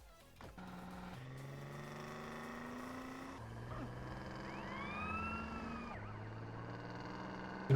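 An ambulance van siren wails in GTA San Andreas, a loud, continuous warbling tone that shifts pitch in long steps over a running engine, alone without talk.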